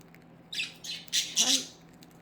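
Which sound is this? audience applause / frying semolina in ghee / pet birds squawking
pet birds squawking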